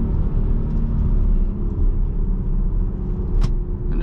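A Jeep cruising on back roads in second gear, a steady low engine rumble and road drone from inside the cab, continuous and fairly loud with a brief faint squeak near the end.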